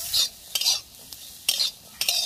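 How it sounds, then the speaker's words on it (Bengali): Radish fry is stirred in a pan with a spatula in quick scraping strokes, four or five close bursts over a light sizzle of oil. "দিয়ে এখন ভালো করে দেখো নাড়াচাড়া করছি"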